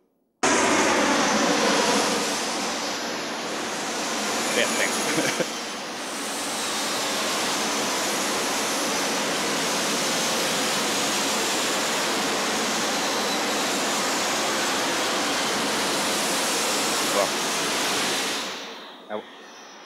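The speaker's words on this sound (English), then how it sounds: "we can also apply it, as I said, to aircraft noise" A loud, steady roar of aircraft noise fills the recording almost continuously, fading out at the end; a brief voice is heard near the close.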